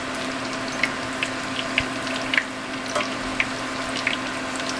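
Chicken parm cutlets frying in oil heated to 350 degrees, giving a steady bubbling sizzle with small pops and crackles scattered throughout, up close, even and unbroken, and with no one talking.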